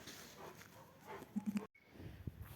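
A dog barks faintly and at some distance, giving a quick run of three short barks, then a couple of softer yelps after a brief gap, all fairly quiet.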